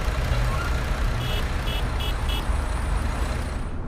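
Reversing beeps from a Neoplan bus in Fernbus Simulator, four short evenly spaced electronic tones over a loud continuous engine and road rumble.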